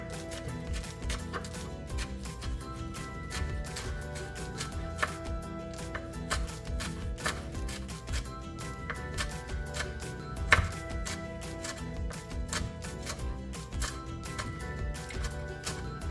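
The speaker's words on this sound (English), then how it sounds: "This is going to roughly chop your chilies really small" A knife chops green chilies on a board in quick, steady, close strokes, a continuous run of crisp taps with no talking.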